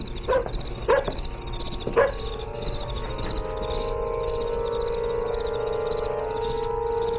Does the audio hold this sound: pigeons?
no